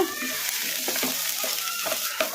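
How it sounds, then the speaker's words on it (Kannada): Onions frying and being stirred in a kadai give a steady, close hiss, with soft scraping strokes of the stirring spoon repeating through it. "ಈಗ ಉಳ್ಳಾಗಡ್ಡಿನ ಕಡಾಯಿಗೆ ಹಾಕೋಣ ಕಲಿಸ್ಕೊಂಬಿಡೋಣ"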